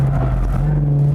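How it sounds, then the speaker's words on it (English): A car engine held at high revs within its torque band while drifting, a loud steady drone with a strong low hum that holds almost unchanged through the whole short stretch, with no talk over it. "You have to keep revving it within the torque band."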